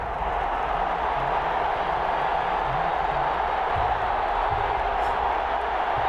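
A stadium crowd roars in a steady, unbroken wash of noise before a Minnesota Vikings vs New Orleans Saints NFL game in Madden 21.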